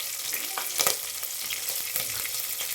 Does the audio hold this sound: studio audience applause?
no